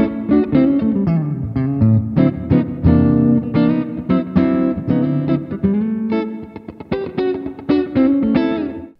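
Electric guitar played through a Vox Clean amp preset in the Primo guitar plugin, with a clean, slightly effected tone; a continuous run of picked chords and single notes with steady attack, close and fairly loud, no voices.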